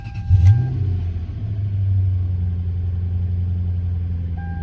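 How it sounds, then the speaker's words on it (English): A Lexus LS430 starts with a brief low burst and then settles into a steady, close-up idle rumble. The engine hum holds even and moderately loud to the end, and no one talks. "Let's turn the car on for 1 sec though."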